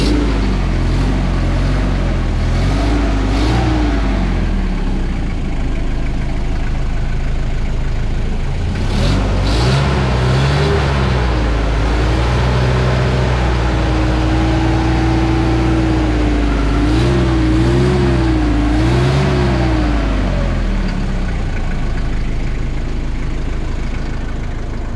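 An Isuzu Elf truck engine being checked runs close and loud, idling before a series of revs that swell and fall in pitch over steady rumbling, with no talking.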